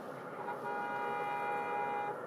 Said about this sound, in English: They're honking at this. They're not honking at us.